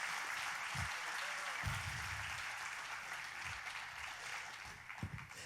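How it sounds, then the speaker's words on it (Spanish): Quiet, distant applause from a conference audience runs continuously, with a few heavier thumps and bumps scattered through it as people move to sit down. "demos un aplauso a Dios por ellos"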